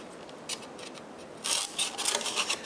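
Scissors cut through paper in a few short snips, faint at first and then a quicker, louder run of crisp cuts close by.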